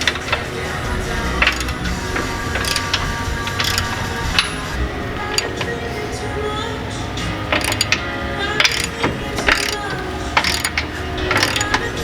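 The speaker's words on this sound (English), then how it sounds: "Gonna pop the sway bar link real quick." Mechanic working on the sway bar link of a 2019 Ram 1500, with repeated close metallic clicking and ratcheting of a wrench, scattered clinks and taps of tools throughout, loud and busy.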